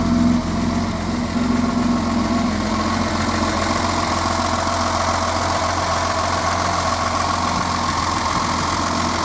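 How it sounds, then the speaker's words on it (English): A 1966 Mercedes 230SL Pagoda with automatic gearbox idles steadily nearby, its engine giving a smooth, even low rumble that holds constant throughout with no voices. "Ticking over quite nicely at the front."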